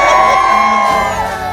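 A crowd at a motorbike meetup in Lucknow makes a short, loud burst of cheering and shouting voices close by, fading slightly at the end.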